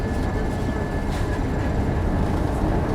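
Steady interior rumble of a city tram riding through Vinnytsia, a continuous low rolling drone with faint higher hiss, constant and close throughout, no voices.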